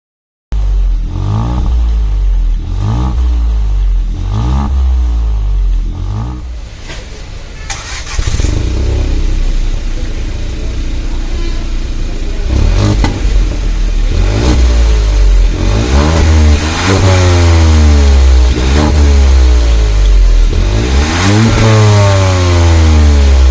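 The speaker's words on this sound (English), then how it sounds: "So now let's listen to the exhaust note of the i20 NLine." The exhaust of a 2021 Hyundai i20 N Line is heard at close range, idling and then revved repeatedly, with loud rising and falling engine sweeps carrying through to the end.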